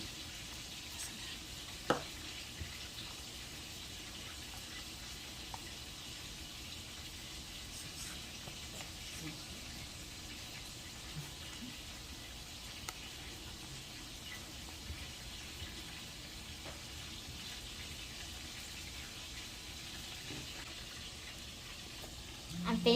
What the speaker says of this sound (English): I'm finishing up stirring my cake up.